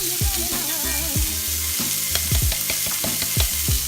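White onions and garlic frying in a cast iron pan, a steady close sizzle broken by scraping and stirring clanks of a utensil against the pan.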